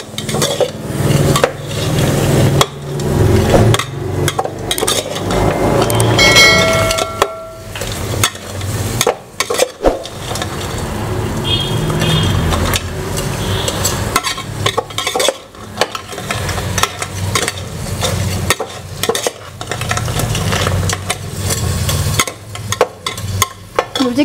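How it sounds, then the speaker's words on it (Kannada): Crab masala fries in ghee for a crab ghee roast while a spoon stirs it steadily in the pan. Close, uneven scraping and clatter rises over a continuous sizzle, with brief pauses between stirs. "5-6 ನಿಮಿಷಗಳ ಕಾಲ ಚೆನ್ನಾಗಿ ಬೆರೆಸ್ಕೋಬೇಕು। ಇದೆಲ್ಲ ಮಸಾಲೆ ಚೆನ್ನಾಗಿ ಫ್ರೈ ಆಗಬೇಕು।"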